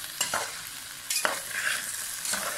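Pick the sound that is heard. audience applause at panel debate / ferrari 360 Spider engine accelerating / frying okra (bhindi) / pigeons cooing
frying okra (bhindi)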